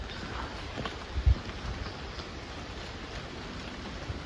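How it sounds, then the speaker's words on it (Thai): Steady rain patters down in a continuous hiss, with a couple of dull thumps partway through. "ฝนเนี่ยก็ตกลงมาเรื่อยๆเลยทุกคน"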